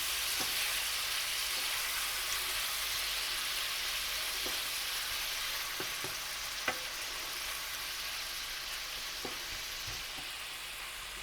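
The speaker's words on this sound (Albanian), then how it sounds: "Skuq pak karkalecat" Shrimp fry in a pan with a steady close sizzle, broken by occasional soft clicks and taps of stirring, with no voices.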